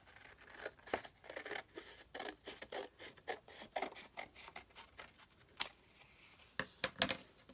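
Scissors snip along a creased line in paper for a spooky castle craft, a quiet, close run of quick rhythmic cuts and rustles with a few sharper snips near the end.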